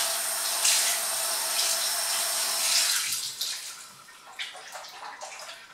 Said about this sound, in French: Je vais utiliser de l'eau un peu tiède.